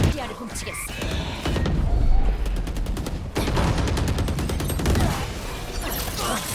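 Rapid gunfire in a shooting game, dense automatic bursts and volleys rattling almost without pause, loud and close, with voices talking over them.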